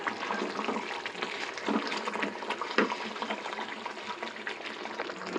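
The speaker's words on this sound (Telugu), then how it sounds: "ఆల్రెడీ ఇక్కడ మన మసాలా కడిగిన కడిగి నీళ్ళు ఉన్నాయి కదండి ఆ నీళ్ళు వేసేసుకుంటున్నాను" Masala-rinsing water is poured into a simmering potato and egg curry, giving a continuous splashing, bubbling wash of liquid that stays fairly loud and close throughout, with no voices.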